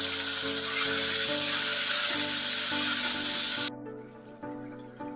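Tomato paste hits hot oil already frying cardamom, cloves and cinnamon for a duck egg curry, giving a loud, steady sizzle for nearly four seconds before it abruptly settles to a softer hiss over a faint tonal hum.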